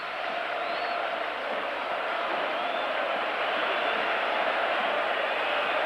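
Home football crowd in a packed stadium at a Barcelona versus Juventus European Cup quarter-final, a steady, broad roar of cheering and noise rising slightly, with no clear voices above it.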